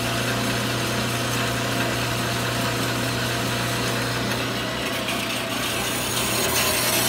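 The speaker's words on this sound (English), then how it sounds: "so we get a really nice true edge on the Ellis bandsaw" An Ellis bandsaw cuts through a 1.5 inch cold roll steel shaft, giving a steady close grinding whir over a constant motor hum with no break or speech.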